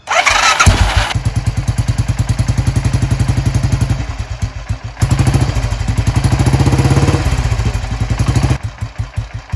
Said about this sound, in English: Let me go ahead and just electric start to make it a little easier today.